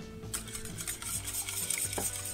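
Wet, sloshing scrapes of a utensil stirring batter with kefir in a bowl, close up and continuous, with a light clink near the end.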